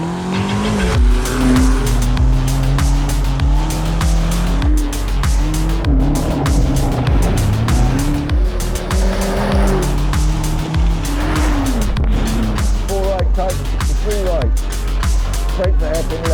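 A car driven hard at the Festival of Speed: a loud, close engine revs and shifts throughout while the tires squeal and skid, with voices talking over the driving.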